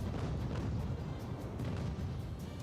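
Naval cannon broadside in the age-of-sail game Ultimate Admiral: Age of Sail, a dense rolling rumble of overlapping booms sustained throughout, heavy and continuous with no voice over it.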